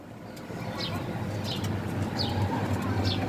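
Doves in a backyard loft coo softly and intermittently against a steady outdoor background, with faint chirps above, fairly close but not loud.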